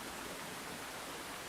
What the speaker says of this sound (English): It's just like torrential downpour. We're like in a waterfall above a pool.